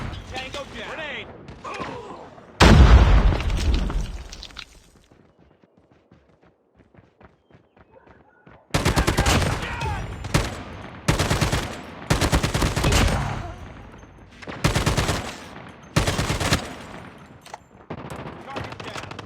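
Call of Duty Mobile combat sounds: a loud grenade blast followed by bursts of rapid gunfire in repeated volleys, with game voice callouts in between.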